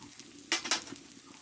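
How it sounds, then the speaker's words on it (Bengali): Ginger, cumin and garlic paste frying and being stirred in a pan, with two short bursts of sizzling and scraping over a quiet kitchen background. "আদা জিরে রসুন বাটাটা ভালো করে ভেজে নিয়েছি"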